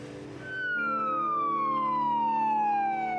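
An ambulance siren rushing to an overdose call in Vancouver wails loud and close, one long steady tone gliding slowly downward as the vehicle passes, with no other sound over it.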